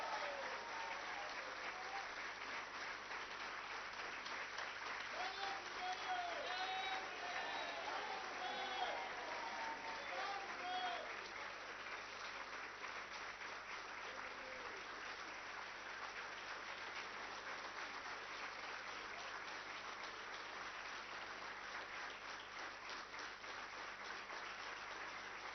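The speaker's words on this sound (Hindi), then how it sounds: "स्टैंडिंग ओवेशन, सब खड़े होकर एक बार जोरदार तालियों के साथ" Sustained applause from an audience rising in a standing ovation at an international award ceremony for World Peace and Harmony Day, steady and dense throughout with a few whoops and voices mixed in near the start.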